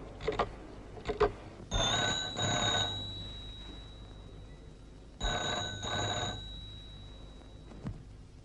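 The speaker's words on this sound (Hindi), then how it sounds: "सरकार आपका फोन।" An old telephone bell rings in an indoor scene from a vintage Hindi film, two loud ringing bursts separated by a pause, preceded by a few sharp clicks.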